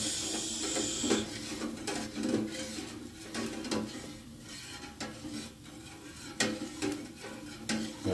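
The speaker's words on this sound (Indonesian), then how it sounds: "Kita aduk-aduk terus." Goat curry with coconut milk stirred in a pot, a wooden spoon scraping and rubbing repeatedly against the pot with a gentle simmering sizzle underneath, close and steady.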